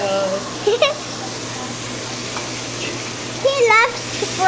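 Steak fries in a pan with a loud, constant hiss and crackle close by, while voices talk briefly over the sizzle at the start and near the end.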